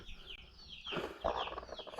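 A hen sitting on eggs indoors clucks softly nearby, a few low throaty sounds in a quiet setting.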